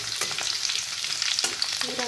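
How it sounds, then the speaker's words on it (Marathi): Tempering crackles in hot oil in a pan for a dry bitter gourd curry, a close busy sizzle with sharp pops and stirring scrapes, no voices. "ही बघा मस्त अशी आपली फोडणी आता होणार आहे कारल्याच्या सुक्या भाजीची"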